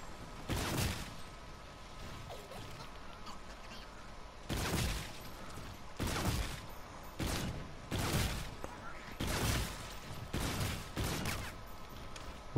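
Bursts of rapid gunfire in a first-person shooter round come in several loud volleys separated by quieter gaps, with one-hit headshot kills.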